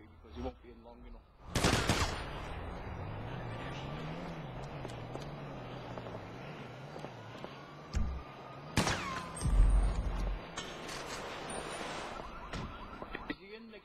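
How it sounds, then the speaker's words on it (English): Gunfire from players shooting in GTA 5, bursts of shots at intervals over a droning alarm-like tone and game noise, with a voice talking partway through. "Is he in the glitch shooting at you?"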